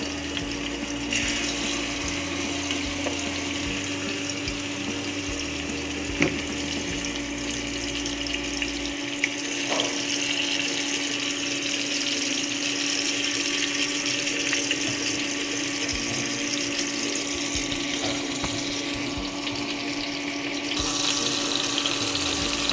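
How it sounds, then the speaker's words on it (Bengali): Marinated broiler chicken frying in soybean oil in a wok, a steady hissing, watery sizzle with a constant hum, continuous and fairly close, no voices. "মাংসগুলো খুব সুন্দরভাবে ভেজে নিব, যাতে মাংসের এপিঠ ওপিঠ খুব সুন্দরভাবে ভাজা হয়।"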